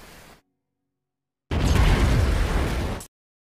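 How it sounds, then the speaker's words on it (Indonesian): An anime explosion as the ninja KAI blows himself up in Ninja to Gokudou: a loud, roaring blast lasting about a second and a half, following a short moment of silence. "KAI justru meledakkan dirinya sebelum mati"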